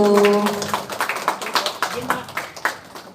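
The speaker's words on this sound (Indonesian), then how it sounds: "Tepuk tangannya dong Bapak dan Ibu" An audience at an installation ceremony claps at a moderate level. A short voice comes first, then irregular claps follow and fade slightly toward the end.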